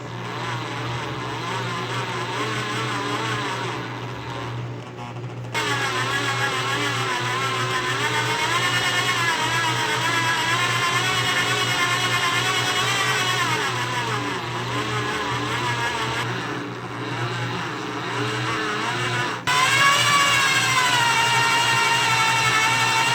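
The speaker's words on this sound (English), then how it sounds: "a real lack of ability to control this motor speed" A coil winding motor runs continuously while winding a new secondary coil, its whine rising and falling in pitch as the speed wanders, with a steady low hum beneath and abrupt shifts where the speed jumps.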